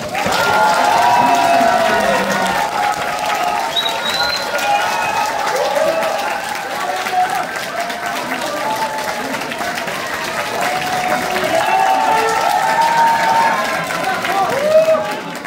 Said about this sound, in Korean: 위원장님을 큰 박수로 모시겠습니다.